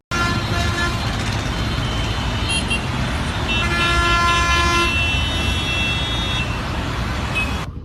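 A bus on a local road blares its horn loudly and almost continuously for several seconds, multi-toned honking layered over rumbling traffic noise close by.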